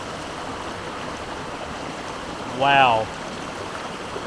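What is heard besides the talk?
waterfall flowing in rainforest gorge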